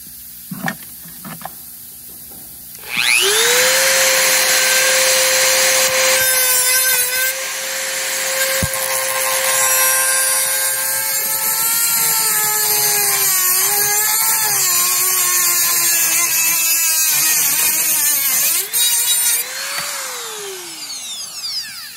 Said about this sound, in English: we're just using a handheld Dremel with a cutoff disc for metal on there